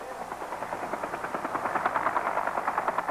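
A military helicopter's rotor thumps in a steady, rapid rhythm over a broad engine roar during the Vietnam War, moderately loud and continuous throughout.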